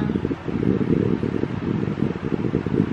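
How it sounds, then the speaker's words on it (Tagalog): An electric fan whirs steadily close to the microphone, a constant airy hum with slight fluttering, nothing else heard. "Electric fan lang."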